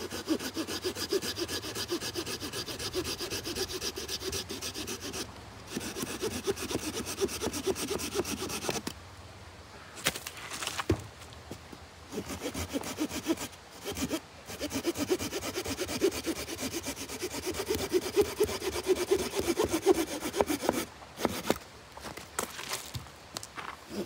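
An Opinel No. 12 pocket saw cutting through a dry, older wooden branch about 7–9 cm thick, steady rhythmic rasping strokes close up, with a few short pauses between runs of sawing.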